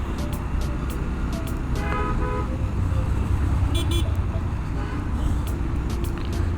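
Dawn traffic rolls along the busy Dhaka-Chittagong highway, a continuous road rumble broken by several short car horn toots at irregular moments.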